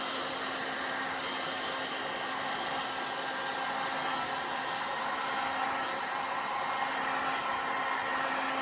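A heat tool blows steadily on resin petals of a large stained-glass-effect sunflower bowl, a continuous even airy rush with a faint hum, close and unbroken throughout, no voices.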